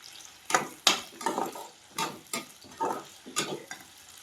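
Garlic is tossed into hot oil in a pan for a home-cooked curry. It sizzles in short, repeated bursts as it is stirred, close and moderately loud.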